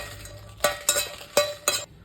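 Dried red chillies roast in a dry pan, with four sharp metallic clinks and scrapes of a spoon against the pan over a faint background hiss, close by.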